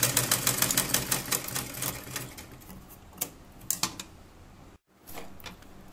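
Sewing machine stitching folded cloth for a child's three-piece night dress: close, fast mechanical rattling with regular needle strokes that slow and stop, a brief silent gap, then a short restart.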